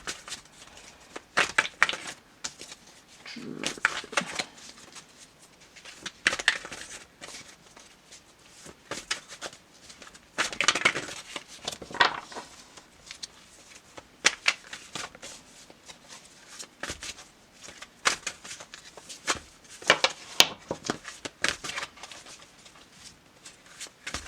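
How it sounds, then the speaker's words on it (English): Tarot cards from a Legacy of the Divine deck shuffled by hand in quiet irregular bursts of riffling and soft slapping, close and fairly faint, repeating across the whole stretch. "Trying to get a card to come out."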